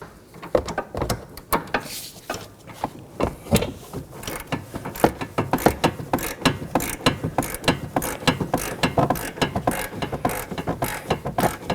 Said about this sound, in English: remove the nut using my 18mm on a ratchet